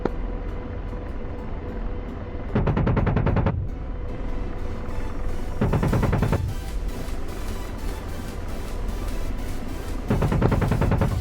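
Apache helicopter cannon in the DCS combat game firing three sustained bursts, each a dense rapid roar lasting about a second, over a steady rotor and engine drone that runs throughout.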